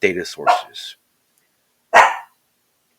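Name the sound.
dog barking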